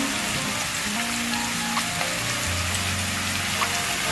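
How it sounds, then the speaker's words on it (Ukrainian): A steady, dense sizzle of onion frying in a pan, crackling continuously with no talking. "Взяли цибульку, йдемо смажити на пательні. Смажимо цибульку."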